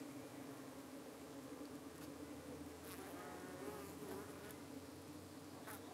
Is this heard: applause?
no